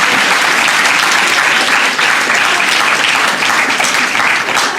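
Sustained, dense applause from an audience at a poetry reading, loud and even with steady clapping throughout and no talking heard over it.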